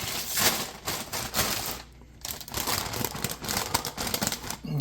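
A bag of Doritos chips crinkles and rustles continuously while pizza is being assembled, dense papery crackling with a brief lull partway through, fairly close and with no voices.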